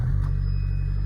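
A Suzuki Swift GTi engine running inside a shop that specializes in old Porsches, a steady low droning hum close by with a slight rise at the start, no voices over it.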